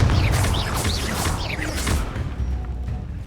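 A Confringo blasting spell goes off in Hogwarts Legacy, a short run of loud whooshing, crackling bursts and impacts that taper into a softer rumble.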